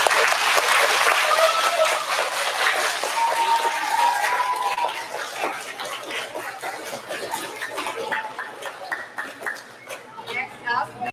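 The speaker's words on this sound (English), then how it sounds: "Let's give Ms. Ramone's class a round of applause." An audience at an elementary school fifth grade awards assembly applauds a class, loud dense clapping that gradually thins and fades, with chatter and light laughter mixed in.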